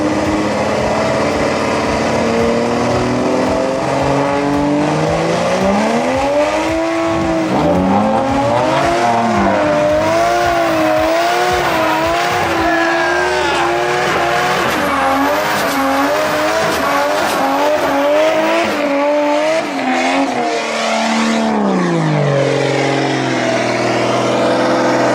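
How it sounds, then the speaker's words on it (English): Car doing a burnout outside a shop, with a high-revving engine rising and falling in pitch over loud continuous tire squeal, sustained and close for the whole stretch. "So I thought we would do something similar, and we would welcome with a new burnout."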